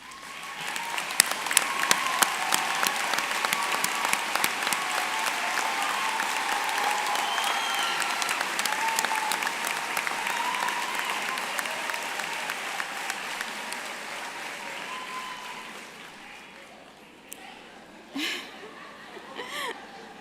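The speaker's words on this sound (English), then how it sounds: "Will all of our first-generation graduates please stand for a well-deserved round of applause?" Loud, sustained applause from a large commencement crowd honoring first-generation graduates, with scattered laughter and chatter mixed in. The clapping thins out toward the end and gives way to a few isolated claps and voices.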